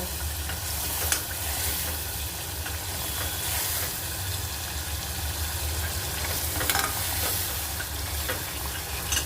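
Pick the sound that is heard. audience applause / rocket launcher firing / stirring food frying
stirring food frying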